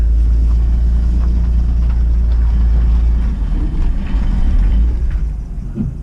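An old Nissan 240SX barn find, long left sitting, drives along with a heavy, steady low engine rumble. Faint scraping from its brakes sits underneath, and the noise eases slightly toward the end.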